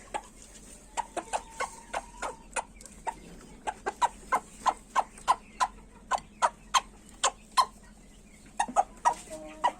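A hen that lays shell-less eggs clucks in a steady series of short, sharp calls, close and fairly loud, with a brief quicker burst near the end.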